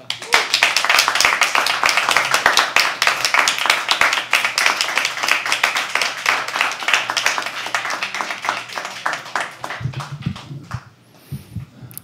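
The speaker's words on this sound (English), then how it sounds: "I know you just stopped clapping" A room of listeners at a live poetry open mic claps after a performance, loud, dense and close, with individual hand claps audible, then tapering off near the end as a few stray sounds remain.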